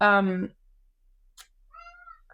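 A house cat gives one loud, close meow at the start, followed by quieter room sound and faint voices.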